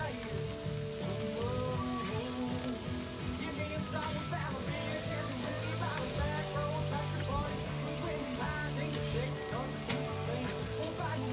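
Buffalo burgers sizzle and crackle on a hot grill at a camp, a steady fine frying hiss with scattered pops and a sharp scrape near the end as a patty is flipped.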